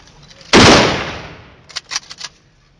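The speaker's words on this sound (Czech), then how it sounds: "Na počest Milana Paumera, chlapa, který nikdy neuhnul, pal!" A single loud gunshot volley fired as a salute at a Czech funeral, sharp and close, followed by a decaying echo and a few quieter crackling reports.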